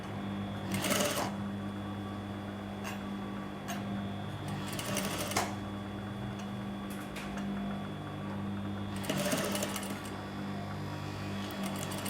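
A sewing machine runs in short bursts while stitching a gathered seam with pins set at right angles, a soft mechanical whir with a few louder rattling stretches, close and quiet, no talk.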